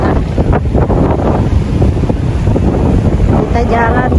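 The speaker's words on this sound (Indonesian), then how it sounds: "Kalian lihat, ini angin dan berombak besar." Strong wind gusts across a beach at Timika while big waves surge and crash nearby. The roar is loud and continuous, with heavy buffeting on the microphone.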